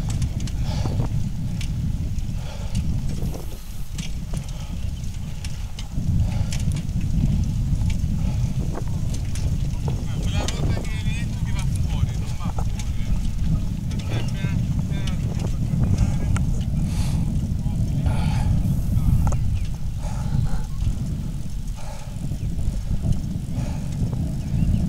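Wind buffets and roars steadily while a Graziella bicycle is ridden around the Imola racing circuit, a constant loud low rumble with occasional rattles and faint talk underneath.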